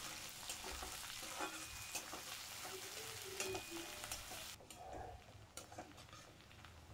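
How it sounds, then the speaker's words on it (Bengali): Onion frying in a pan makes a soft, continuous sizzle with a few light clinks of stirring, quiet and close. "দিয়ে দিলাম পেঁয়াজটাকে এবার আমি লাল লাল করে ভাজা করে নেব।"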